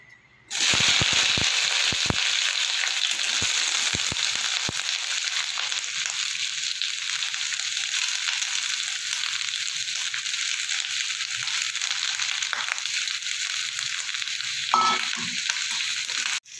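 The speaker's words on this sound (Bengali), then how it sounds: "কুঁদরিগুলো আমার ভাজা হয়ে গেছে অনেকটাই" Kundru (ivy gourd) fries in hot mustard oil in a wok, giving a loud, steady sizzle with a few sharp crackles early on that continues unbroken to the end.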